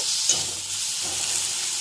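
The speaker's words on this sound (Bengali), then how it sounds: "এগুলো একসাথে দিয়ে ভাজবো" Steady sizzling of onion and garlic frying in a hot pan, with a couple of soft scraping stirs.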